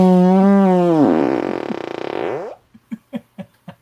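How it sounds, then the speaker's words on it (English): A digital fart sound effect plays as a loud, close, buzzing blast that wobbles and falls in pitch over about two and a half seconds, followed by a few short sputtering pops. "That's a digital fart."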